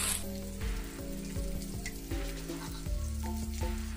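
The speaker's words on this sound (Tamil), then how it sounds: "இது ஒரு பக்கம் நல்லா பொரியட்டும்." Masala-coated fish fries in hot oil with a steady close sizzle and crackle, while faint rhythmic clinks or tones sound in the background.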